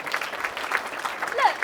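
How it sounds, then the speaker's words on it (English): Scattered clapping from a small outdoor audience of about eight people at a Just Stop Oil talk at a festival, a thin patter with a few louder claps near the end. "give these people a round of applause"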